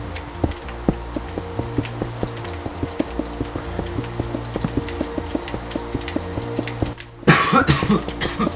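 A person coughs in one loud, harsh burst near the end, breaking through a steady backdrop of soft, rhythmic Minecraft game music.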